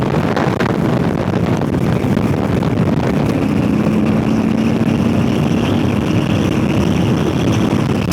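Strong headwind roars and buffets the microphone in a steady, loud rush while riding a Harley-Davidson Low Rider ST at speed, with a low drone underneath and no talk.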